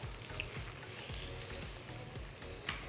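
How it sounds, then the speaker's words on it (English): Two eggs fry in a hot wok beside shrimp and vegetables for basil fried rice, giving a soft, continuous sizzle with faint stirring scrapes and a couple of brief pops. "Crack 2 eggs straight into the pan."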